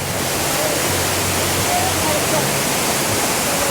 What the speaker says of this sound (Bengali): এখানে জল দেখুন খালি নামছে দেখুন উপর থেকে সেই উপর থেকে একদম দেখুন নামছে